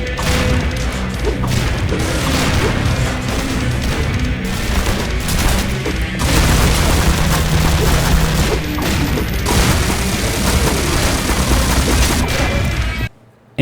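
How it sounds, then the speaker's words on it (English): Rapid, loud explosive blasts and crashes from psionic strikes of the Damocles sword in Cyberpunk, dense and continuous for about thirteen seconds with barely a pause, ending abruptly. "Like this sword called the Damocles, where when you hit people with it, it causes a psionic blast and just straight up blows them up"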